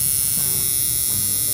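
A vintage all-original Danny Fowler machine runs with a steady electric buzz and hum, close and constant for the whole stretch, with no talk over it.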